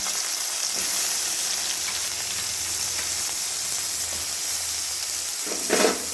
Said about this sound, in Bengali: এবারে নাড়াচাড়া করে খুব ভালো করে ভেজে নেব